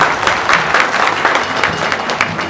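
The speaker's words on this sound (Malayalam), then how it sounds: "യോജിക്കുന്നവർക്ക് കൈയടിക്കാം" Crowd applause at a large Hindu gathering in Thiruvalla, loud and continuous dense clapping from many hands, sustained evenly throughout without talk.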